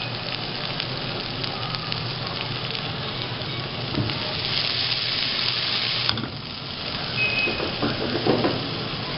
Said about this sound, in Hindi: और इसको थोड़ा सा फ्राई करेंगे।